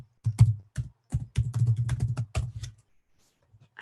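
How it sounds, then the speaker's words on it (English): Quick bursts of keystrokes clack on a computer keyboard, close and crisp, in uneven clusters of typing that stop abruptly near the end. "Let's see if I can type."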